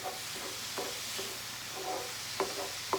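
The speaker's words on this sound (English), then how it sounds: "my meat has fried to about the place I want it" Ground meat frying in a pan for a keto bacon cheeseburger casserole, a steady sizzle with occasional stirring scrapes, close and moderately loud, no talking.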